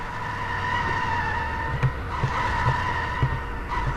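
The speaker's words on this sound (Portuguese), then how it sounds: "Aqui, olha a velocidade que esse carro vai." A fast car races and skids in The Simpsons Hit and Run video game, with a sustained engine tone, tire squeals and a few short thumps, no voices.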